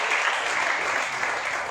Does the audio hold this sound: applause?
yes